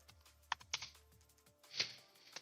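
Typing on a computer keyboard during live Python coding in Blender: a few sharp, separate key clicks close to the microphone, with one longer burst of keystrokes near the end and no talking.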